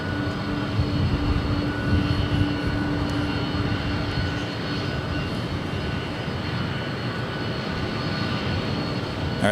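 A jet airliner at Los Angeles International Airport gives a continuous, fairly loud engine roar with a steady whine, holding evenly throughout with no voices.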